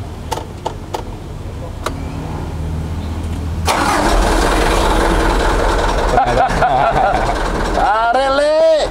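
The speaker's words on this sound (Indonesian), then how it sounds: "Coba Pak, di starter boleh nih Pak." A modified truck engine cranks and catches near the end after a quieter stretch of background noise, with a rising starter whine and a loud engine burst closing out the clip.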